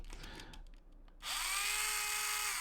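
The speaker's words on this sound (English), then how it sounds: "So next up, I've got my little Tamiya handy drill." A small Tamiya handy drill spins up to drill into a miniature model for pinning, starting abruptly after a quieter stretch of faint handling noises and running as a loud, steady, high-pitched whine.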